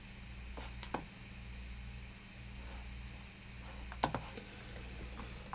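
Sparse keystrokes clatter on a computer keyboard while code is typed, a few quiet clustered taps near the start and a quick burst later, against a faint room hum.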